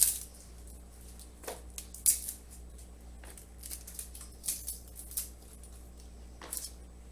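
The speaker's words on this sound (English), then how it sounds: "just cut them in half and lay it inside" A knife cuts through heads of garlic on a board while turkey bone broth is prepared, giving several scattered, crisp snaps and taps over a quiet background with no talking.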